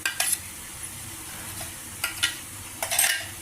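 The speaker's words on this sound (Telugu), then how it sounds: "టమాటా ప్యూరీ అది అన్నీ కలిపి ఇందులో మగ్గించుకోవాలి" Bottle gourd pieces cooking with a ginger, green chilli and tomato puree in a pan, with a soft steady sizzle broken by a few brief scraping stirs of a spoon.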